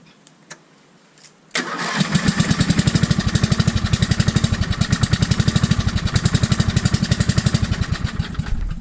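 A Fordson Major tractor engine fitted with a fresh battery cranks briefly after a few faint clicks, then fires and settles into a loud, close, steady chugging idle with an even pulsing rhythm.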